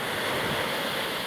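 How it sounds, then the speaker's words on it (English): Ocean waves wash onto a shore on a fresh summer day, a dense, steady roar of surf with wind buffeting the microphone, continuous and loud with no voices. "The sound of the waves was pretty overwhelming"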